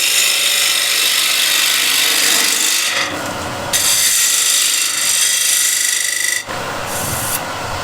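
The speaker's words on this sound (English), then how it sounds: "peeling side grain using the scraper" A negative rake scraper peels the side grain of a wooden bowl spinning on a lathe, giving a steady, close, rasping scrape with brief changes in pressure and no talk.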